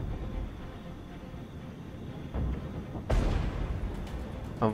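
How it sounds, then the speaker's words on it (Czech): Muffled booms of artillery fire over a low rumbling soundscape in the video game Regiments, with a sharp louder blast near the end of the clip. "že i ta artilerie střílí"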